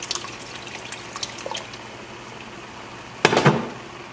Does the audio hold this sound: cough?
no